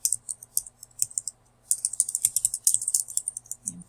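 Close, crisp keystrokes on a computer keyboard come in quick irregular runs with a brief pause partway through, and no one speaks.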